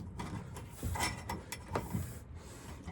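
A screw is tightened in the clamp of a UTV sun visor, giving a quiet series of close, small clicks and ratcheting ticks with faint scraping between them.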